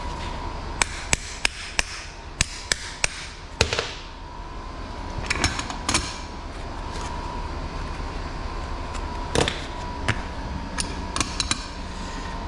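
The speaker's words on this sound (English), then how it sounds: "We use the air chisel." An air chisel hammering on a copper electric motor during scrap processing, giving sharp, fast impact bursts and separate knocks over a steady background rumble, loud and close.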